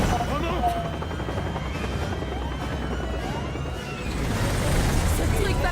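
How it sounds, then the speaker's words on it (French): A helicopter in the video game Resident Evil 6, a loud, continuous rotor roar mixed with gunfire and crashes, with players talking over it. "C'est un hélicoptère."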